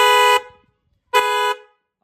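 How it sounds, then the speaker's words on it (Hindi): Creta car horn fitted to a Mahindra Thar Roxx sounds two loud, steady honks up close, the first about a third of a second and the second slightly longer, with silence between. "देखो थार में एक हॉर्न यहाँ पे लगा है"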